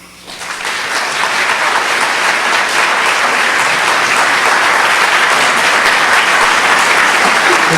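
Sustained audience applause welcoming E.J. Dionne to the stage at a talk on religion and American politics, rising quickly to a steady, dense clapping that fills the room and carries on without a break.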